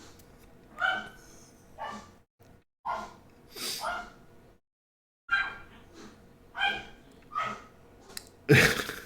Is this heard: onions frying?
no